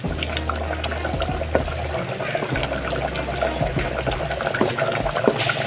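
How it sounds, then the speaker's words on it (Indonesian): Green beans tip into a bubbling pot of vegetables, with steady boiling and liquid churning throughout, scattered splashes and light knocks, close up and without talk. "Nih, buncis kita masukkan."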